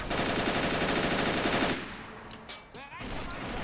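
Machine-gun fire and rifle shots in a WWII-style battle game rattle loud and rapid for almost two seconds, then give way to quieter sporadic shots and battle noise.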